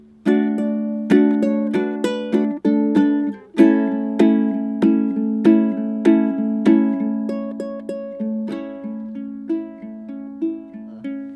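Plucked ukulele notes ring out in a steady fingerpicked pattern, each note decaying cleanly before the next, played alone; the final chorus ending of a song on fingerstyle ukulele.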